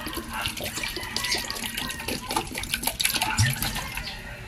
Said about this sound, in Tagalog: lagyan lang natin ito ng tubig mga kaibon.